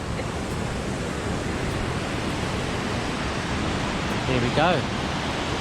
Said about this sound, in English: So you've got the main falls coming through here, and then just on the side there you've got like a mini version